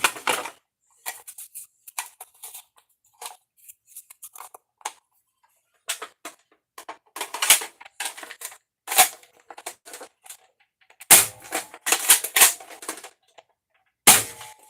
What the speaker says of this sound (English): I'm going to shoot it again with full lengths just for fun.